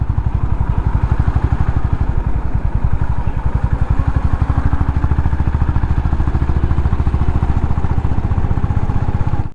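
A motorcycle rides in traffic, its engine close and loud with a steady, rapid putter of evenly spaced firing pulses and a low rumble that holds constant throughout.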